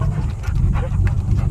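Dog panting with soft whimpers during a boat ride, breathy rhythmic puffs over a steady low engine rumble, close and fairly loud.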